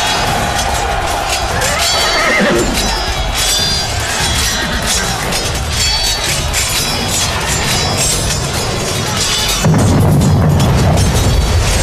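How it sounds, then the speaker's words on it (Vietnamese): A battle sound effect: a loud horse whinny rises over a dense rumbling din of crashes and booms, ending in a heavier low roar, with no speech. "Triệu Tiết luống cuống lên ngựa bỏ chạy"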